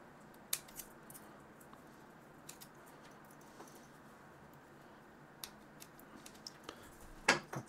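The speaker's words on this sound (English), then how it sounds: "let's trim the tag ends" Faint scissors snip the tag ends of fishing line tied to a hard fishing lure, with a few sharp, isolated clicks spread across a quiet background.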